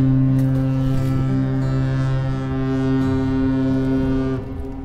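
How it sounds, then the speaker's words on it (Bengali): A boat horn on a river sounds one long, deep, sustained blast, very loud and close, holding steady for several seconds before tapering slightly. "কাকে দেখে হর্ন মারছে?"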